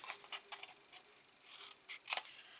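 Scissors snipping along paper score lines while making small craft treat cups, a few quiet, close crisp cuts in an uneven rhythm.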